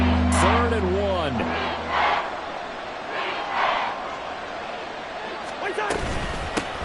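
A stadium crowd roars steadily in the background of a Madden football video game, swelling in waves while a commentator talks over it.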